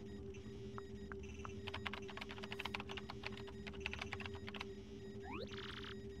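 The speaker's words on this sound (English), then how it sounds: "Use the keyboard to send the required message." Game-style keyboard typing in Paper Mario: The Thousand-Year Door, a quick run of light clicky keystrokes over a steady electronic hum, ending in a rising beeping chirp.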